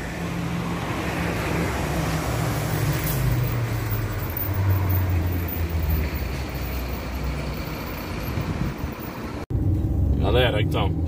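A Fiat Fiorino 1.4 Evo on the move, heard from inside the cabin as a steady engine and road rumble through the gears, ending in a brief cut followed by a short burst of louder noise.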